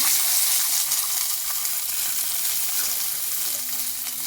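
Garlic and coriander fry in hot oil, giving a bright, dense, steady sizzle that stays loud and close throughout, with no talking.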